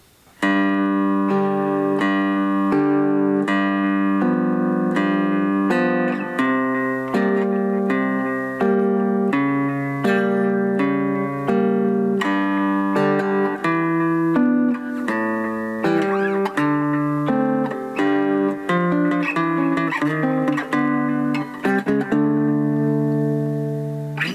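Cigar box guitar tuned to open G plays an eight-bar blues standard, picked with weight on the low notes so each chord change rings out clearly in a steady rhythm, close and solo with no voices.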